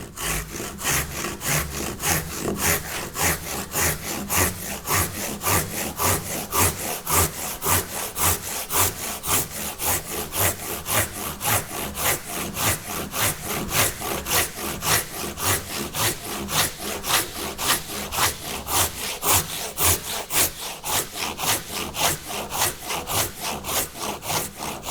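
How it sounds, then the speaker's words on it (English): A hand saw cuts a timber frame tenon in wood, with loud, even back-and-forth rasping strokes repeating steadily and rhythmically throughout, with no voices. "then I can start sawing"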